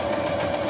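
Steady motor whir of a sewing machine stitching lace and fabric, with a continuous buzzing hum and no pauses, close and moderately loud.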